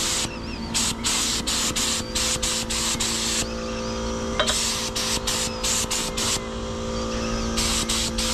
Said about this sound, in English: This thing sprays sick.